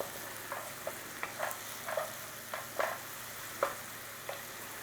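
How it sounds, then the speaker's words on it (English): Onions softening in a pan make a faint, low sizzle, broken by about a dozen light scrapes and taps of stirring at an unhurried rhythm. "these onions are going to take about 8 minutes"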